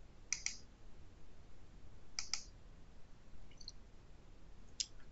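Four sharp, isolated computer mouse clicks, some doubled, spaced a second or two apart over a quiet hum while working through business website builder software.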